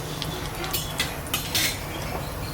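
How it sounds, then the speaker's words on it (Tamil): Whole spices such as cloves, bay leaves, cardamom and star anise are stirred in a cooking pan for paneer salna, a spoon scraping and clinking against the metal in repeated light strokes over a steady low sizzle. "இப்போ அதை நல்லா கலக்கிட்டாங்க."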